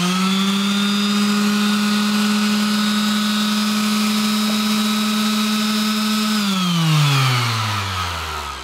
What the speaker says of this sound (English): how much air comes out of the sander generated by its own internal fan?